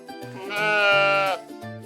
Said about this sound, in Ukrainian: А це овечка. Вона каже Бе.